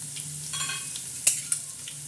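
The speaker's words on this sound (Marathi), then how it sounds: "आता तेल टाकलं आहे आता त्याच्यात प्रथम आपण हा खडा मसाला टाकणार आहोत आणि कढीपत्ता" Whole spices and curry leaves sizzling in hot oil for chicken pulao, a steady close crackle with a couple of sharp spatters and the scrape of stirring.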